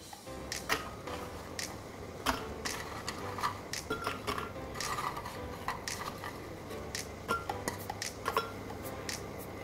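Oreo cookies dropped into a blender jar, a run of quick hard clicks and taps on the container with small rattling pieces, fairly faint and irregular, with no talking.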